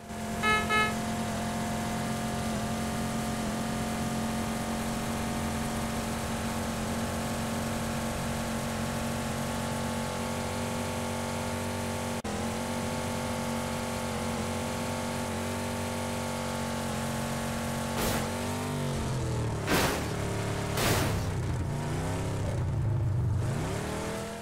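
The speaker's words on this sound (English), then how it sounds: "Awesome, I got the muscle car." A muscle car driven in PUBG on Xbox One gives a steady, close engine drone throughout, with sharper revs and shifting surges near the end.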